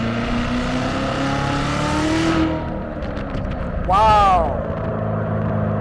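A Chevrolet C7 Corvette Z06 on 335-width tires accelerates hard and briefly loses traction, its engine droning loud and close before a sharp rising rev burst; a voice exclaims briefly.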